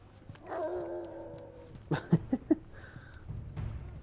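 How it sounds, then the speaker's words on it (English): Dogs in The Last of Us bark and yip in a quick run of sharp, fairly close barks, preceded by a drawn-out whine and followed by softer whimpering. "Damn dogs."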